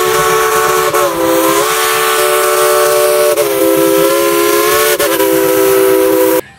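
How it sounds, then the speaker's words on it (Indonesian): A loud, sustained steam-style whistle from a toy Thomas train sounds continuously, its pitch dipping briefly a few times before cutting off abruptly at the end. "Wow, di sini ada kereta api Thomas"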